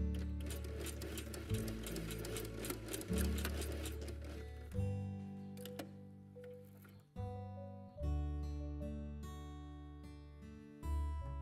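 A sewing machine stitches binding along the edge of a fabric quiet book page in several runs, each a rapid mechanical whirring burst separated by brief pauses, close and clear with no talk.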